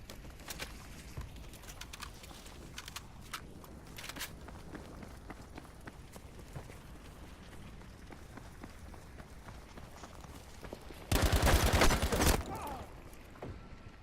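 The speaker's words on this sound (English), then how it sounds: "the storm creates a large amount of noise as the fire rages near you, noises that can sometimes be very similar to footsteps as it crackles away" Fire crackling in the Battlefield 5 Firestorm battle royale mode, a steady low rustle like footsteps under ambient game noise, then a loud harsh burst near the end.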